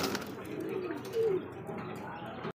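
Pigeons cooing at a pigeon market, soft low coos close by amid faint background chatter and market ambience.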